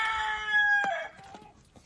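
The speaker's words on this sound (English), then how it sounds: "See, we got some chickens up there," Backyard chickens, with ducks nearby, give a drawn-out rooster crow up close, followed by a few short clucks that trail off quietly.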